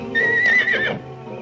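A horse gives one loud, close whinny lasting about a second in a 1938 film, with a faint low rumble beneath it.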